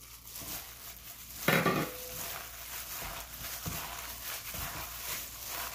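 A whisk or spoon scrapes and stirs through a thick grated-radish batter of flour, cornstarch and black pepper in a bowl, giving a louder clatter early on and then a steady close rustle and scrape.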